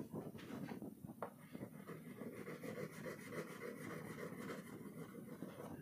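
Dark green crayon rubbing across paper in steady back-and-forth strokes, a soft continuous scratchy rasp close by with no talking.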